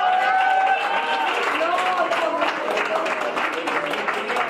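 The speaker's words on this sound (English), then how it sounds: "could you please make an applause to Benedetta who made the order flags" An assembled group applauds Benedetta for making flags: steady, dense clapping from a crowd, with voices talking and calling out over it throughout.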